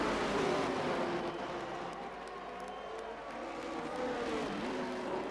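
A McLaren race car roars in a racing video game at Zandvoort, a loud, sustained engine note with shifting pitch that dips slightly and builds again, with a faint crowd-like wash underneath.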